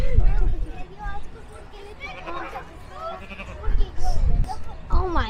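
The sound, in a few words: goat bleating at a farm animal exhibit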